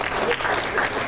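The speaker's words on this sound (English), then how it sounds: "brings a round of applause from our studio audience" Applause from a studio audience at a wrestling show, a dense steady clapping that fills the whole moment at even loudness with no gaps.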